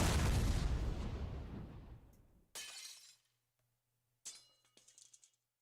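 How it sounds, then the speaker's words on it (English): Glass shattering in the Twisted Wonderland video game: a loud crash that decays over about two seconds, then a sharp second break and a scatter of tinkling shards after a pause. "Why did I hear glass shatter?"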